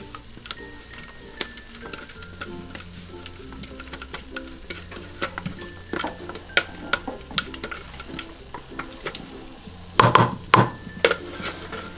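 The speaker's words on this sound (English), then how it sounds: "The stove is turned off, so we have to mix this up together." Chickpea meatball mixture with nuts mixed in a pot on a switched-off stove, a series of soft, irregular scrapes and thumps that grow into louder clanks toward the end.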